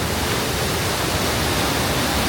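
Loud rushing water of a glacier-fed mountain stream beside a trail near Mount Robson in the Canadian Rockies, a steady dense roar filling the whole moment without pause or voices.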